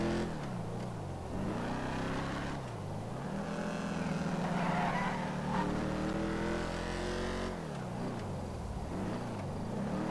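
The HSW Firebolt ASP sports car drives in GTA Online, its engine a moderately quiet, wavering whine that rises and dips as it accelerates and shifts, running continuously with no talking.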